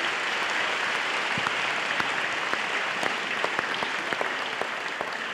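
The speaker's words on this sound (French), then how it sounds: "Yes, clap louder." Audience applause, a dense steady wash of many hands clapping with sharper individual claps poking through, loud and sustained without pause.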